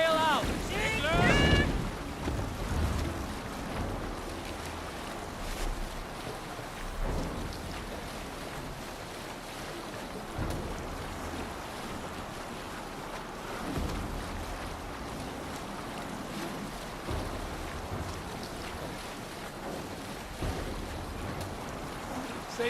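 A sailing ship moves across open sea in a Viking-era game, with wind and water washing steadily, low rumbling surges and occasional thuds, while voices are heard over it.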